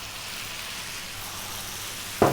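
Cabbage hits a hot pan of softening tomatoes for a vegan ginger cabbage dish, giving a steady, even hiss of frying that runs throughout before a short thump near the end.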